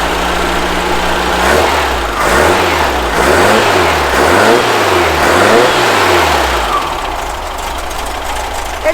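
A VW Baja Bug's air-cooled engine warms up at a steady idle, then is revved repeatedly in a series of rising and falling surges before settling back to idle, loud and close.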